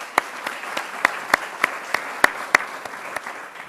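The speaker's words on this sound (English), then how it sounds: "you all deserve a round of applause." Sparse applause at a university State of the University address: a handful of distinct, evenly spaced claps ring out over a quiet room, fairly close and crisp, rather than a full crowd ovation.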